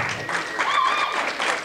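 A comedy club audience claps for a stand-up comedian in a short, lively burst, with cheering and a whistle over the clapping.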